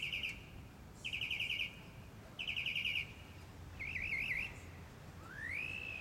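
A mockingbird sings outdoors, cycling through varied phrases: rapid repeated chirp bursts, a wavering trill and a rising whistle, moderately close over a soft rumble of background noise.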